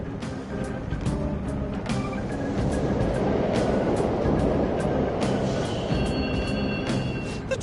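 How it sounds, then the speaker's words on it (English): Subway trains rumbling through an underground station in the video game Persona 5 Royal, a steady, loud, dense rolling roar with faint rhythmic clatter that holds throughout. "The trains are totally running!"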